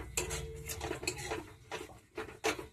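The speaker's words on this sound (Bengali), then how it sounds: "চলছে খুন্তি আর কড়ার মধ্যে লড়াই" Metal spatula scraping and knocking against a kadai while tomato and potato spices are cooked with a little hot water, a quick irregular run of faint clatters and scrapes.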